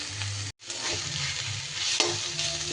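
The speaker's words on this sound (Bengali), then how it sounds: "ভালো করে একটু ভাজা ভাজা করে নিতে হবে" Thankuni (Centella) leaves stir-fried in a pan until dry: a loud, close, continuous sizzle broken by a brief silent gap early on, with spatula scrapes stirring through.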